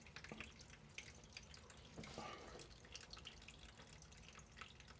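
Water trickling and dripping steadily from a leaking fitting on a 51-year-old sailboat, a continuous close splashing flow with no talk.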